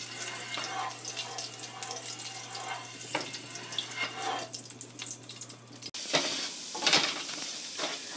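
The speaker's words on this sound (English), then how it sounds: "And now I have started to fry my SOOJI" Semolina (sooji) frying in a pan: a soft continuous sizzle with scraping strokes of stirring close up, growing brighter and louder near the end, no talk.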